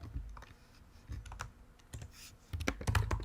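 Typing on a computer keyboard: irregular bursts of soft, close key clicks, sparse at first and quickening into denser clatter toward the end, with no speech.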